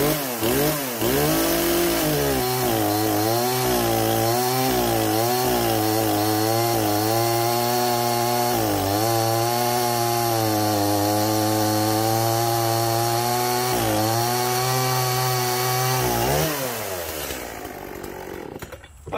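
An Echo 4510 chainsaw engine, already warmed up, runs steadily at a high idle for about sixteen seconds with a pulsing, wavering drone, loud and close, before dropping away at the end.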